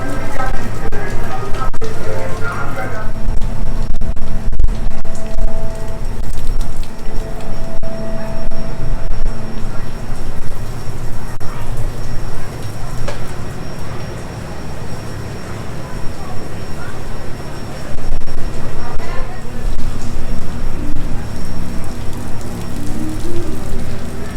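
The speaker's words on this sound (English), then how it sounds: "Oh, the rain! Look at that rain." A steady downpour patters and hisses on nearby surfaces for a long stretch, loud and continuous with a low background rumble.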